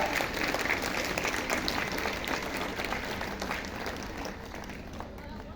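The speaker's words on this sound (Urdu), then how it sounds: "آپ کی بھرپور تالیوں میں" Full, sustained audience applause at a school and college event in Dera Ismail Khan, Pakistan, as an education official is welcomed, a thick wash of clapping that eases slightly toward the end.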